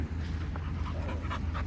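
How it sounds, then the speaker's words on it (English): An XL bully pit bull pants rapidly and steadily at a dog park, close and fairly loud, with quick breathy bursts and faint background activity. "Look at Puma meeting new dogs"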